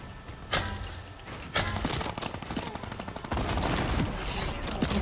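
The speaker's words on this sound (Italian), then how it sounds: "Sento solo lo sparo." Rapid automatic gunfire crackles through a round of the video game Fortnite, with bursts of shots starting and stopping at moderate distance and a few louder single cracks, with no voices over it.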